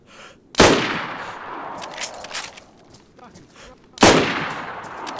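Two sharp, loud gunshots about three and a half seconds apart ring out in the DayZ video game, each followed by a brief echoing tail, with faint footsteps and movement between them.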